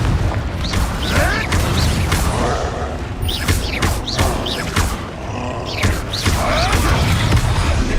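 Confringo explosive spell cast in Hogwarts Legacy during combat, with repeated booming bursts and whooshing impacts that come in quick succession amid layered battle effects.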